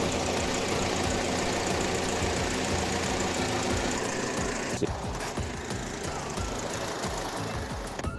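A 2009 Chevy Malibu 2.4 liter four-cylinder idles steadily with the hood up, a loud, close, continuous mechanical drone with a fine ticking texture and no talk.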